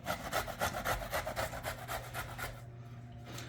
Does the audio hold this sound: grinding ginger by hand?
yes